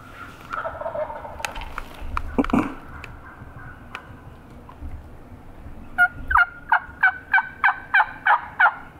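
A string of wild turkey gobbles in Mississippi rings out in quick succession near the end, loud and close, following scattered rustles and a few thumps earlier on.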